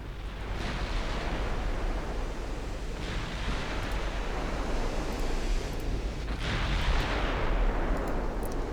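Cruisers fire naval guns in the warship game Ultimate Admiral Dreadnoughts, giving several soft, distant booming blasts spaced a few seconds apart over a constant washing sea-like background.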